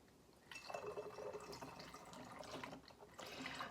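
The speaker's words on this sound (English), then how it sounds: "And then you pour in your kombucha to the top." Kombucha pours in a steady gurgling stream into a bottle, quiet and close, with a brief pause before pouring resumes.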